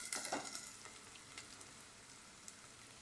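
Ginger garlic paste sizzles and fries steadily in a hot pan while cooking dried prawns with gongura, with a continuous crackling hiss and a few soft pops, no voices.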